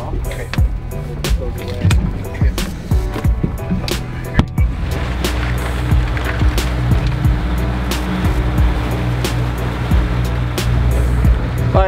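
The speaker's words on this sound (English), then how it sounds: "It'll be nice going with the waves." A fishing boat runs through ocean waves, with a steady loud engine drone and rushing water broken by repeated sharp slaps and thumps as the hull hits the swell.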